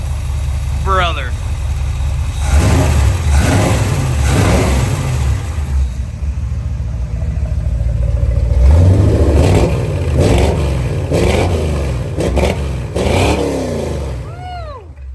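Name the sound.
old dually pickup truck engine revving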